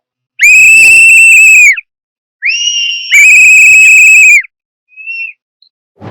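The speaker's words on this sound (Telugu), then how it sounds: "ఓన్లీ విజిల్సే అన్నమాట, ఎక్కడ చూసినా విజిల్స్." Shrill, piercing whistle blasts ring out during a Tamil Nadu election victory celebration: a long loud blast, a short break, then two more long blasts and a couple of faint short toots.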